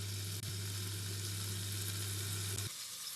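Onions fry for mutton biryani in a steady, dense sizzle that runs close and continuous, then cuts off abruptly near the end.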